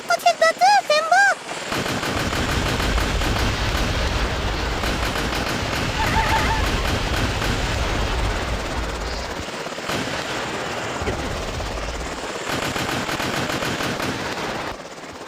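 Rapid gunfire bursts from a drone firing at a slime anomaly, sustained loud clattering over a whirring rotor drone, with brief pauses and a voice speaking near the start.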